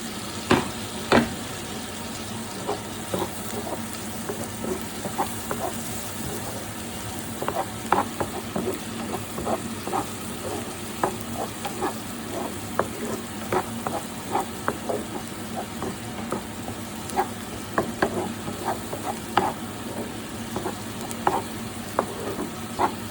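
Onions and tomatoes fry with a steady sizzle in a pan for palak paneer, punctuated throughout by frequent sharp clicks and scrapes of a spoon stirring against the metal.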